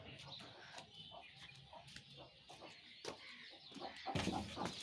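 Chickens and small chicks on a village farm make faint, scattered clucks and short peeps, with a few sharper calls near the end and a little background noise.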